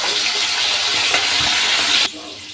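Soaked chickpeas tipped into hot white oil tempered with whole cumin, dried red chillies and bay leaf, giving a steady broadband sizzle with stirring that cuts off abruptly near the end.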